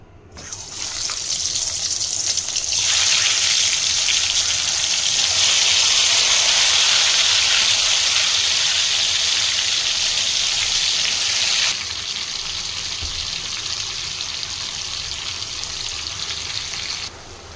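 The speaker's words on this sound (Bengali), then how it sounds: "পেঁয়াজ ভাজার তেলেই আমি আলুগুলো ভেজে নিচ্ছি।" Potatoes frying in leftover onion-frying oil give a loud, steady hiss that swells after a few seconds, holds, then settles to a lower continuous sizzle with no talk over it.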